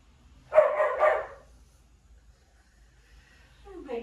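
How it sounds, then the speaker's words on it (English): A pet dog barks twice in quick succession, fairly close by indoors during a home Pilates workout, then near silence follows. "My dog barked at perfect timing since I wasn't teaching."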